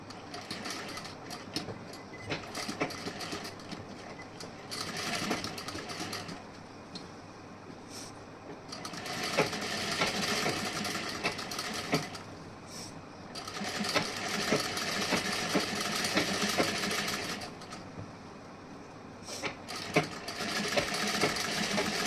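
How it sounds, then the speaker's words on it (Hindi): A sewing machine stitches a blouse seam in long runs of rapid, even mechanical chatter, pausing briefly between bursts, close by and steady with no speech. "अब इस साइड में भी इसी तरीके से हमें सिलाई लगानी है।"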